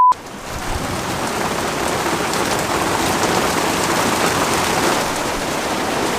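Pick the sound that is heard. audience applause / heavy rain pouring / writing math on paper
heavy rain pouring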